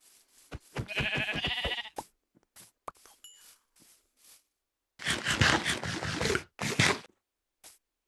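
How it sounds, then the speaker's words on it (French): Sheep in the Minecraft video game bleat in short bursts, a stuttering call early on and a longer bleat later, loud and alone, with faint clicks and scrapes between. "Bah, un mouton juste là."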